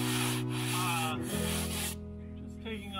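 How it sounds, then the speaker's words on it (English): Rough sandpaper rubbing across painted boat bottom to knock down high spots, a steady close scratchy rasp under a strong humming tone that shifts pitch partway through. "Just taking off any high spots with rough sandpaper."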